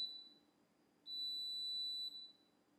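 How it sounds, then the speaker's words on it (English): Oven timer alarm in a home kitchen, with a loaf of bread baking, giving a high electronic beep: a short tone at the start, then a steady sustained beep of about a second, with a faint room hum beneath. "Oh, that's the oven alarm."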